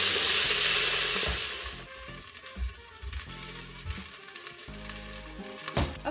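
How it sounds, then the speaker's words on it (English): Beef fries in a Farberware pressure cooker, sizzling loudly at first and then settling into a quieter, steady crackle with small pops and stirring scrapes, close up with no talking. "Get all of your meat fried"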